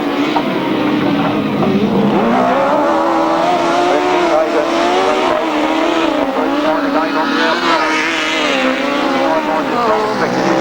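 Motorcycles race on a grasstrack, engines whining loudly and shifting pitch as they sweep past in a tight bunch, while a commentator talks excitedly over the din.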